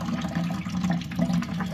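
Coolant draining from the radiator of a 2005 Chevy Equinox after the drain screw is opened, a steady close trickle and splash of liquid running continuously without pause.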